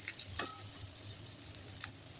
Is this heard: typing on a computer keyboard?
no